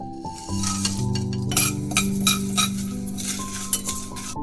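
Pepper, dry red chillies, cinnamon, cardamom and cloves dry-roasting in a pan, with clinking metal spoon strokes and light rattling of spices over a low hum, no voices.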